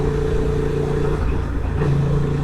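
Honda Transalp motorcycle engine droning steadily and loud while riding, a continuous rumbling note with wind noise and a slight pitch rise near the end.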